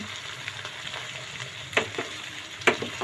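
Corn and carrots frying in a pan give a steady close sizzle with faint stirring scrapes and two sharper spatter bursts, no voice present.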